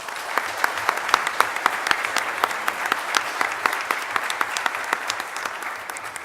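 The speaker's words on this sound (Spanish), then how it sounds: "Yo pidiera un aplauso para Mario por todo el apoyo que nos da" An audience at an international arbitration conference applauds, with a steady patter of many hands clapping together for several seconds at moderate distance and no voices over it.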